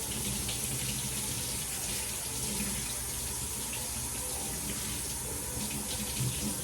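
Pompano fish rinsed under a running kitchen faucet, a steady close rush of water splashing into a sink that continues unbroken.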